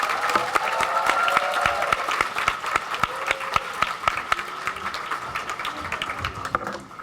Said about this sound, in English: could we have one more round of applause for room